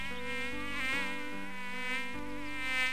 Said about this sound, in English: It buzzed round the king's bed and finally settled on the king's nose.